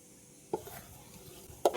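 A utensil scrapes and knocks twice against a pan while food is stirred, set against a quiet, faint sizzle.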